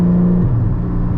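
A 2022 Porsche Cayman GT4 manual with Valvetronic exhaust droning under power around 2500 rpm, a loud steady low engine hum with a tone that dips slightly midway, heard from inside the cabin.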